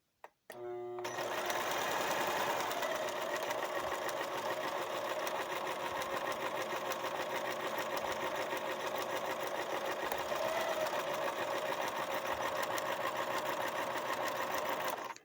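A Brother LX3014 sewing machine sewing zigzag embroidery, starting abruptly into a fast, even, continuous mechanical whir and rattle that runs close and unbroken to the end.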